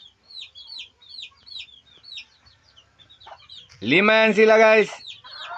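Chicks peep in quick, high chirps throughout, and a mother hen lets out one loud, drawn-out call near the end, with someone briefly talking.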